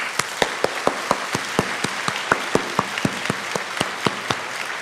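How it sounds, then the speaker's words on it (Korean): Applause at a church prayer service for the next generation, with steady, rhythmic, distinct hand claps ringing out over a softer wash of crowd clapping, close and even throughout. "우리 다음 세대들을 위해 제가 박수 치겠습니다"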